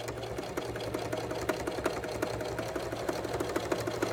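A BabyLock Pro sewing machine stitches a simple bag, its steady rapid needle chatter running evenly and close by, with no talk over it.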